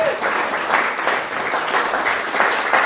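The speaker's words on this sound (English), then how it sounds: "You just finished clapping" An audience applauds at a jazz vespers concert in a church, a loud, full burst of many hands clapping that swells and eases in waves, with faint crowd murmur beneath.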